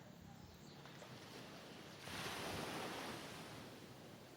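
Sea waves wash in as a soft, steady hiss of surf, swelling into a broader, louder wash midway before easing back, with faint wind noise and no talking.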